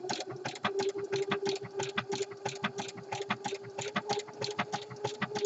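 A home sewing machine stitches fold-over elastic with bulky nylon thread onto raw edges of a jockstrap pouch, running at an even, moderate pace with a rapid rattling needle beat and a steady motor hum, close and clear.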